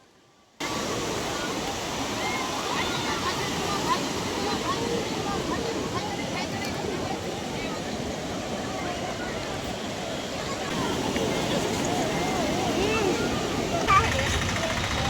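Sea waves wash onto the shore at Puri in a steady, broad roar of surf that swells louder toward the end, with speech faintly present underneath.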